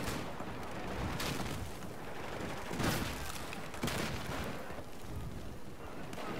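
Armbrust launcher fire in the video game Battlefield 4: a few sharp booming bursts cut through a dense, continuous roar of battle noise and gunfire, loud and steady throughout.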